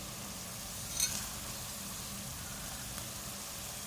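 Whole spices, black peppercorns, cloves, black cardamom and a piece of cinnamon, fry in oil with a steady, even hiss of sizzling, close and moderately loud, with one brief louder crackle near the start.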